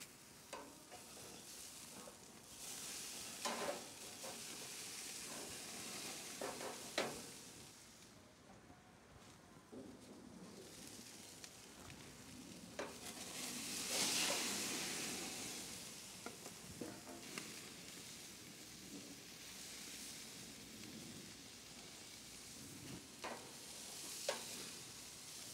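Vietnamese pork steaks sizzle quietly on a Monument Mesa 305 grill, a soft continuous frying hiss with occasional scrapes and clicks from handling, faint and without talking.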